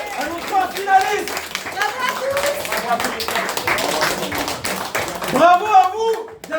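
Audience clapping at a Beyblade tournament in France, a dense burst of hand claps running throughout with someone speaking loudly over it and cheers rising near the end.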